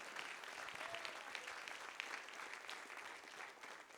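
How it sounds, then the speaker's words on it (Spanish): A church congregation applauds during a Spanish-language sermon, giving a dense, steady wash of clapping that fills the whole stretch at moderate level and fades slightly at the end. "Denle ese aplauso al Señor."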